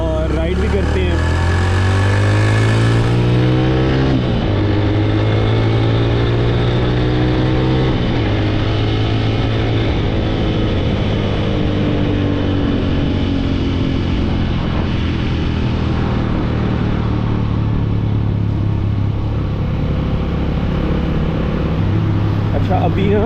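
A Yamaha YBZ 125 motorcycle rides through busy midday city traffic, its engine droning steadily and loudly throughout with shifting pitch, while someone talks over it.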